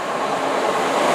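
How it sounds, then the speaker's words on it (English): A British Rail Class 442 electric train passing through Clapham Junction, a steady loud rushing rumble with no talk over it. "Passing through now, we have a 442."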